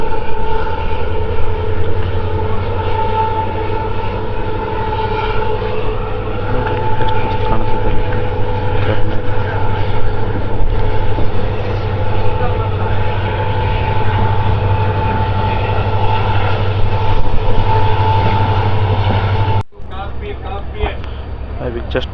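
Passenger train hauled by a WDG4 diesel locomotive on a diesel section, a steady loud rumble and drone of engine and rolling wheels heard from on board, continuous for about twenty seconds before abruptly cutting lower.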